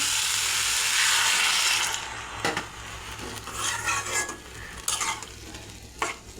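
A hot pan of frying Malabar spinach stems and potatoes hisses in a loud burst of sizzling as a little water is added, then settles into a quieter sizzle as a utensil scrapes and stirs.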